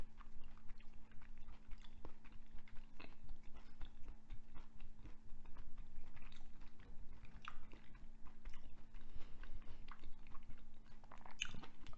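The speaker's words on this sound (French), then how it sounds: "je me rends compte que je mastique énormément en fait." Close, steady chewing of food, soft wet crunches and bites repeating in an irregular rhythm for the whole stretch, over a faint constant hum, with no talking.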